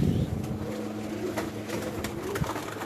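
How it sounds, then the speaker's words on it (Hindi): Teddy pigeons coo with low, throaty, rolling calls that repeat against a steady background hum, close by and with no talking over them. "ये टैडी कबूतर बहुत ही आला, बड़े नायाब कबूतर हैं जी"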